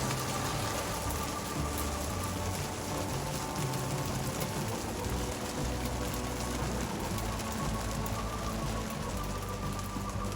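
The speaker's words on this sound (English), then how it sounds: "The rain poured and poured and poured." Heavy rain pours steadily at a campsite, a dense, unbroken hiss of drops drumming on surfaces that stays loud and even throughout with no voices.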